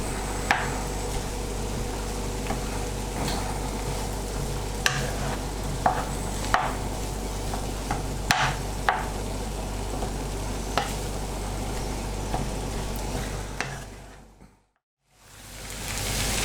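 Corned beef hash sizzles and fries steadily in a pan while a utensil breaks it up with repeated scraping and tapping strokes. The sound is close and continuous and drops out briefly near the end.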